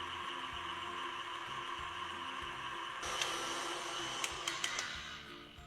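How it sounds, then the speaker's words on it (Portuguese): An electric stand mixer beats sponge cake batter in a steady, continuous motor whine, faint throughout. The tone shifts partway through and a few brief clicks and knocks follow. "ligo a minha batedeira e vou acrescentando dessa maneira"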